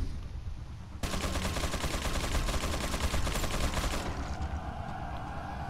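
Rapid automatic gunfire from a gun in the Resident Evil video game, a dense burst of shots running about three seconds after a quieter start, then fading into lingering game ambience.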